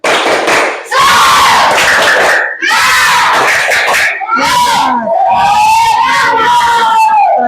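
Children shout a rhythmic 'tepuk semangat' clapping chant in loud, energetic bursts with brief pauses between phrases, voices yelling together close by.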